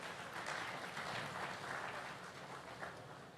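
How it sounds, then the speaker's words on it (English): Conference audience at the Africa Prosperity Dialogues 2024 applauding partners and sponsors, a fairly faint, steady patter of clapping lasting a few seconds in a large hall. "a round of applause for all our partners and sponsors"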